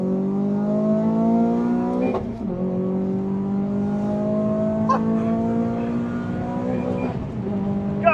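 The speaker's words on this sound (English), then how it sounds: "We're going to do a second gear pull." Renault Clio 200 engine revving hard in second gear, rising steadily toward the limiter with brief interruptions, loud and close from inside the car.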